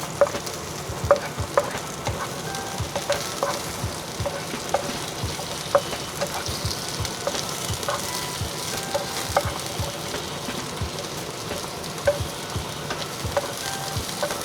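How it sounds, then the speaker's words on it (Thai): Mushrooms and cabbage stir-fry in a pan over medium heat, a steady, close sizzle punctuated by frequent spatula taps and scrapes against the metal, with no speech. "แล้วก็เอาเห็ดนะลงไปผัดเลย เราจะใช้เป็นไฟกลางผัดนะ"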